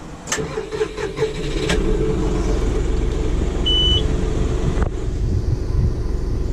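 A tractor with a loader, running 73.5 hours, cranks with a couple of sharp catches, then fires and settles into a loud, steady diesel idle close by, a brief beep sounding partway through.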